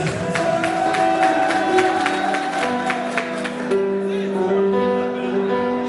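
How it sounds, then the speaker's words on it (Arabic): Crowd at a live show applauding for a groom: rhythmic clapping fills the first half, then fades as music and voices carry on, everything fairly loud and close. "عطونا تصفيق على ولد عريس بزاف"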